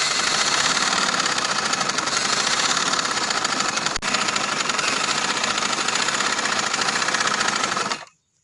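A sewing machine runs steadily for about eight seconds while stitching trouser fabric, a loud, even whirring drone with one tiny hitch midway, then stops abruptly.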